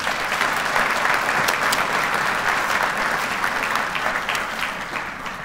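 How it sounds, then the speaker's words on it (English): Sustained applause from a sizable symposium audience, dense clapping holding steady before gradually tapering off. "I want to give her a big round of applause"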